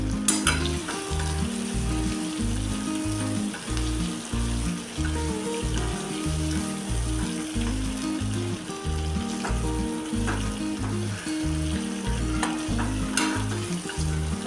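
Onion and cashews frying in oil in a pan, a steady bubbling sizzle with faint stirring scrapes, close and moderately quiet, continuing without talk.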